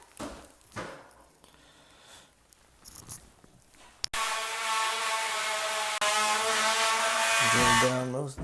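Power drill running steadily for several seconds, boring through framing during a residential water line repipe, loud and close, after a stretch of quieter handling and knocks.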